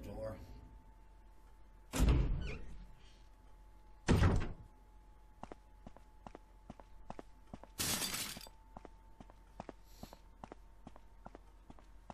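A door in the Resident Evil video game is unlocked with an old key and swung open: a few heavy thuds and a grinding clunk stand out over a faint steady hum and soft ticking footsteps, with no voices.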